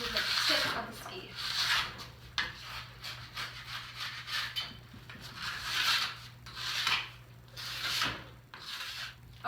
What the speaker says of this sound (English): now we're going to scrape it off